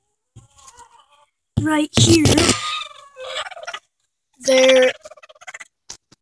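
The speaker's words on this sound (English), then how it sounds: "is a chicken right here in the nesting box, laying an egg." Rhode Island Red chicken in a nesting box, a couple of loud bursts of clucking and squawking with quieter rustles between, close by, with brief speech in the clip.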